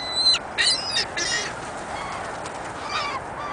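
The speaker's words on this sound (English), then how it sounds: "All these birds are the seagulls and the ducks." Ducks and seagulls eat bird food in New York, with a few loud honking quacks and calls near the start, then quieter chatter from the birds.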